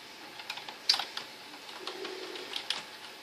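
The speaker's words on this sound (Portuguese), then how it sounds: "esse teclado tá fazendo muito barulho" Clicky computer keyboard keys clatter in irregular bursts, close and fairly crisp, with short pauses between taps and no speech.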